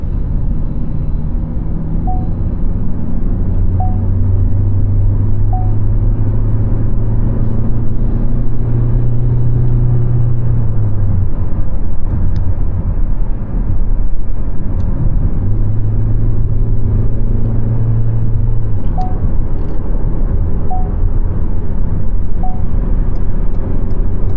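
A 2024 Ford Focus 1.5 EcoBlue diesel engine drones steadily under load climbing a gentle ramp, rising in a long sustained pull, with faint periodic ticks and road rumble throughout.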